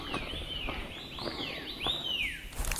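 Birds sing along a flat, shaded mountain trail near Smangus village in the Hsinchu mountains, with several quiet, repeated sweeping whistles and chirps.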